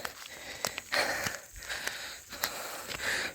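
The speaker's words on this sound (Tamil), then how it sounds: "மூச்சு வாங்குது." Heavy, ragged breathing of someone out of breath while hiking uphill near a hill village, with close gasps and wheezy exhales repeating every second or so.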